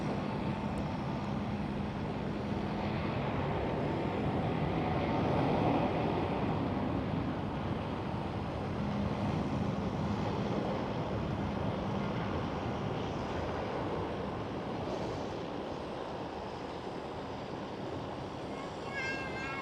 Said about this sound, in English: There goes the China Southern A350.